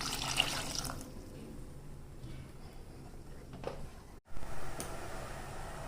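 Water pours into a mixer jar of ground paneer gravy, a soft steady trickle running for several seconds, close and fairly quiet, with a brief break near the end before it resumes.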